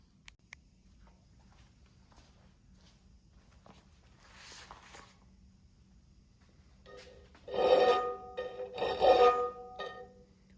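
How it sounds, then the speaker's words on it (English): A file rasps across a metal part for a shallow water motor in a workshop, quiet scraping at first, then two louder bursts of strokes near the end. "So I'm gonna finish filing this"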